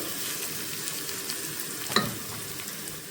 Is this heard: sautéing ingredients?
yes